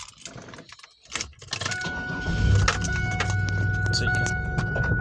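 A car engine cranks and catches after a moment of quiet handling, then settles into a steady close idle hum that keeps going, with light clicks from the cabin over the top.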